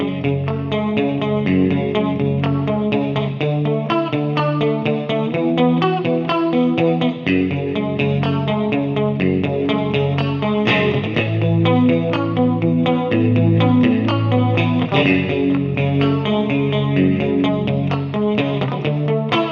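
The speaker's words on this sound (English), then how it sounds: "Add a little bit of reverb and you have a little bit of space behind that chorus" An electric guitar strums continuous chord rhythms through a chorus effect and a Neunaber Immerse Reverberator pedal, giving a thick, shimmering, spacious sound that stays loud and steady throughout.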